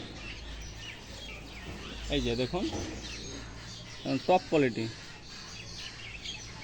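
Adult breeding pigeons at a pigeon seller's coop coo softly in the background while someone talks close by over them.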